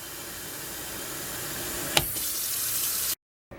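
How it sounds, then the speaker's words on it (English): Cool water runs steadily from a tap into a container for winemaking sanitizing, a continuous close rushing hiss with a brief clunk partway through before it stops abruptly. "we'll fill that up with cool water."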